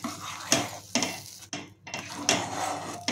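Gooseberry candy mixture being stirred with lemon juice, repeated scraping spoon strokes against a pot in a slow rhythm, about five distinct sweeps with brief pauses between, close and clear without speech.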